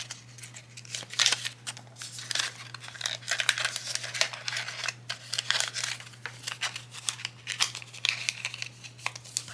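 A $10 paper bill is folded in half with close, crisp crinkling and rustling bursts scattered irregularly over several seconds above a steady low hum.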